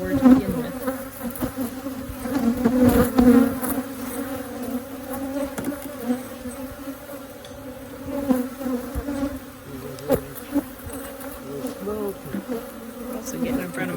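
Honeybees drone loudly and continuously around an open hive during an inspection near the brood, a close, agitated buzz swelling and fading in waves with occasional faint thumps.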